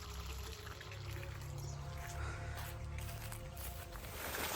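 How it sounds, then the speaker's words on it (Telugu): Borewell water pours steadily into an irrigation channel on a village farm, a continuous close rushing gush with no pauses throughout. "బోర్ అయితే ఇట్లా వస్తుంది మనకు కూడా"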